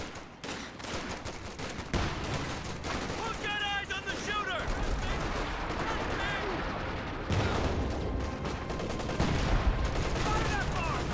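Artillery booms from a leFH 18 howitzer in Company of Heroes 2 mixed with scattered gunfire and battle noise, a dense continuous barrage with a commentator talking over it.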